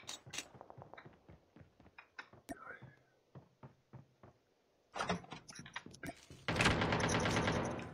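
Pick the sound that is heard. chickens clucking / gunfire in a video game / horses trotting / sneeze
gunfire in a video game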